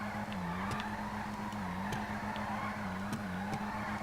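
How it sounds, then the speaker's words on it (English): A Vulcan Warrener car drifts in GTA 5 Online, giving a steady engine drone with rising and falling revs and faint tire squeal, heard alone at low level. "I'm kind of surprised at how well it drifts without being stanced here"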